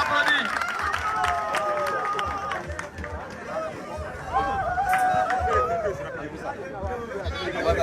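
A crowd applauds and cheers a participant at an outdoor fire-extinguishing demonstration on a burning gas cylinder, moderate clapping mixed with voices and chatter throughout.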